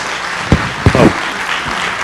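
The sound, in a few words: applause at a city council meeting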